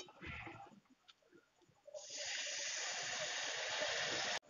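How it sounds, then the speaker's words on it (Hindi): Water is poured into frying spices in a pan for a raw banana kofta curry; after quiet light sizzling, a loud, sudden hissing sizzle bursts up and holds steadily until cut off abruptly. "तो मसालों में मैंने पानी डाल लिया है।"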